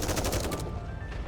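Short burst of rapid video game gunfire in Ark Guardian, several quick loud shots in the first half fading into a sustained electronic tone.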